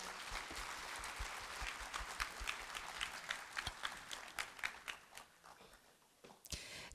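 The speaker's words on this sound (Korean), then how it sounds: "다시 한번 큰 박수 부탁드리겠습니다" An audience applauding at a New Year's greeting ceremony in Daegu, a dense sustained wash of clapping that thins and fades toward the end, heard from a distance and fairly faint.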